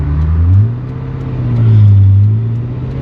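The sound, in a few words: Ferrari 355 engine idling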